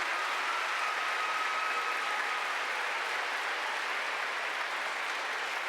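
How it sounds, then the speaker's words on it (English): An audience of parents and family fills a hall with steady, dense applause for students at an elementary school music festival, sustained and even throughout with no pauses or voices standing out. "So parents, will you give our students a big round of applause?"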